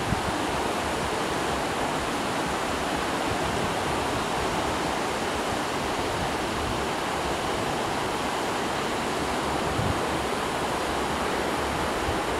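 Sea waves wash steadily onto the beach at Majori in Riga as a broad, continuous hiss of surf, heard alone without breaks or talking.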